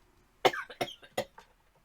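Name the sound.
cough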